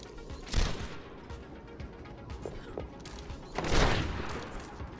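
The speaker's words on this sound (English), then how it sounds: "Ooh, 2 very near shots there." Widowmaker sniper rifle shots fire in an Overwatch 1v1 duel: two sharp cracks about three seconds apart over a busy low game rumble.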